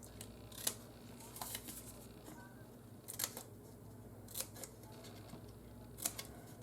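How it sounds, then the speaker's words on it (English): Scissors make several crisp snips, cutting and mitering the flap of a cardboard gift box lid. The cuts come as separate quick bursts with quiet pauses between them. "Cut on the square mark and then miter the flap a little bit."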